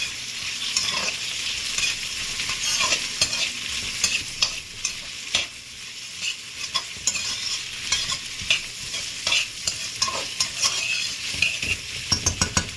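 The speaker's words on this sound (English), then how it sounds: "And I will add scallion and the cut up Scotch Bonnet. Add to that. So I'll give them a nice little stir here." Chopped scallion and Scotch bonnet pepper sizzle in a hot pan while a utensil stirs them, a constant bright frying hiss broken by repeated scraping strokes and light clinks, close up, with no speech.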